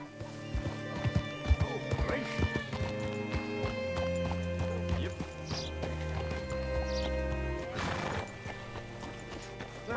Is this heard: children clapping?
no